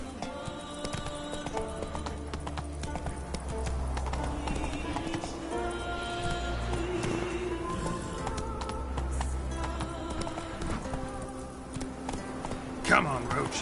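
A horse named Roach clip-clopping in a video game, hooves beating in a steady rhythm throughout, moderately close, with game music and voices talking over it.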